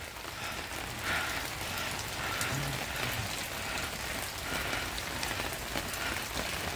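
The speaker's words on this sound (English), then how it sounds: "all that rain should be going into my rain barrel" Steady outdoor rain patters evenly on surfaces around a house gutter and rain barrel, a constant dense hiss of drops with no break.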